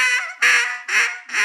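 Hen duck call blown in a drawn-out Cajun squeal: a long whiny note followed by three shorter strained squeals, loud, close and alone.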